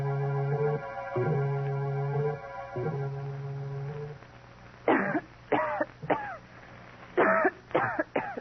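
A person coughs repeatedly in harsh bursts, first a few long hacking coughs, then several sharp, separate coughs close to the listener.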